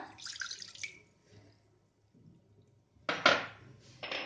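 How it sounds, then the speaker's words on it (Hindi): Vinegar poured into a kadhai on a gas stove for a sweet and sour garlic pickle, heard as short splashy bursts of liquid with a quiet pause between them, close and fairly clear. "अब गैस पे एक कढ़ाई रखेंगे, गैस ऑन कर लेंगे और इसमें डाल देंगे सिरका"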